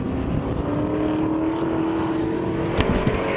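Datsun race cars, including a lime green Datsun 120Y and Datsun 1200 GXs, drone around a circuit in a continuous loud engine roar, with a steady whine and a brief sharp crack near the end.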